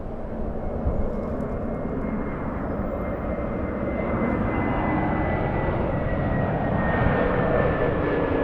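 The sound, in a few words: jet airliner taking off at Los Angeles LAX airport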